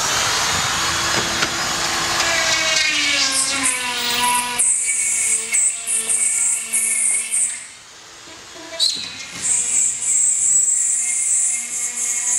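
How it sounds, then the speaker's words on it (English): A router cutting drywall on a commercial job whines with a steady high motor pitch, rising and falling as it bites into the board, with a short dip in the middle. "Take the router."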